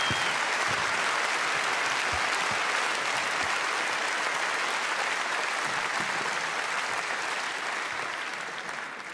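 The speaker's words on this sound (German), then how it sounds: "Genau diesen Applaus meinte ich." Sustained applause from a large audience at an award show, a dense even roar of clapping that holds for several seconds and tapers slightly toward the end.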